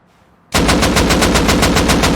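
A fully automatic gun in the game Rust firing a sustained, loud burst of rapid, evenly spaced shots that starts abruptly after a brief quiet moment and continues without pause.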